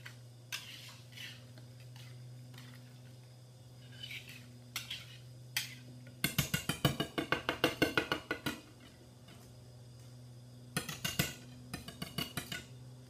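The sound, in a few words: mixing sweetcorn fritter batter in a bowl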